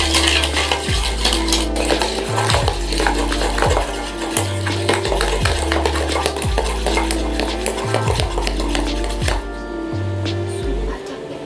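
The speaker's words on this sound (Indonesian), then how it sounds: "Terus kita aduk-aduk terus sampai dia kaku gitu hasilnya." A spoon whisks dalgona coffee in a glass, clinking steadily and rhythmically against the sides in quick repeated strokes that carry on without a break and stay close and fairly loud.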